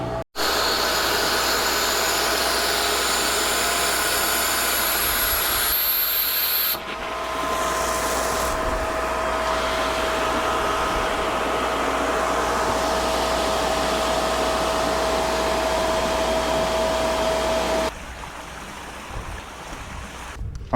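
A pool pump runs after priming, a steady loud whooshing hum with a faint tonal whine that shifts in level partway through and drops noticeably near the end, with no voices.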